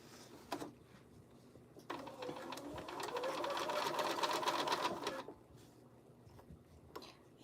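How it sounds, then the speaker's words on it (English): A sewing machine top stitching a pocket, a single continuous run of fast mechanical stitching for about three seconds, close and clear, framed by brief clicks and handling noises before and after. "I'm going to top stitch it."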